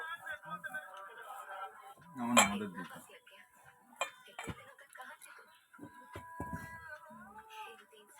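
Cauliflower fritter batter mixed by hand with water in a bowl, with irregular clinks and scrapes of a utensil against the dish, one sharper clatter near the middle, and a person talking quietly in between.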